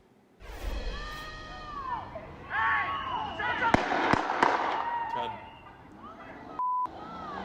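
Two sharp gunshot cracks ring out on a city street as a vehicle starts to drive off near a police officer, amid excited voices, engine noise and a short electronic beep.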